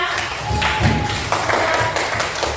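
Schoolchildren in a classroom clap their hands together, a busy, fairly loud flurry of many claps close by, with some scattered voices mixed in.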